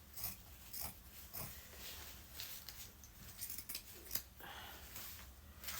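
Scissors snip through rags in a faint series of short, irregular cuts, close by but quiet, with soft breathing and rustling between the snips.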